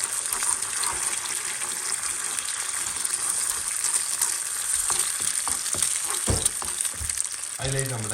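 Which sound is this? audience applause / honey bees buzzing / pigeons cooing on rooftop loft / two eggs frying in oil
two eggs frying in oil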